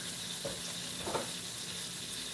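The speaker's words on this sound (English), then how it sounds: "the butter is frying up real nice over here" Butter frying in a pan while cooking Mexican lasagna, a steady soft sizzle throughout with a couple of brief louder crackles, close and alone with no talking.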